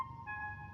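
Sustained electronic tones from the Close Encounters of the Third Kind alien signal sequence, clear pitches stepping once to a new note, moderately loud over a faint low hum, brief.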